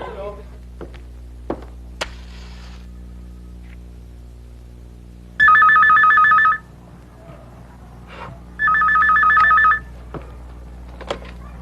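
A telephone rings with an incoming call, two electronic ring bursts about three seconds apart, clear and fairly close over a low mains hum.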